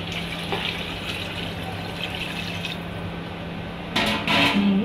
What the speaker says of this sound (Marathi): पाणी टाकायचं ते.